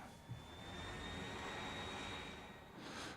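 Corporate jet plane in Factorio, a quiet, steady jet-engine whine with a thin high tone running throughout and a rising swell at the end.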